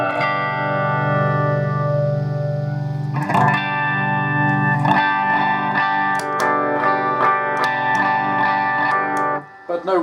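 Electric guitar played through an MXR Flanger pedal running without its main power supply, sustained chords with a swirling effect that sounds weak and thin, loud and steady throughout.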